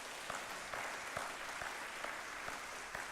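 A church congregation claps during a Sunday service, a soft scattered applause with a few sharper hand claps standing out at a regular pace, distant and fairly quiet.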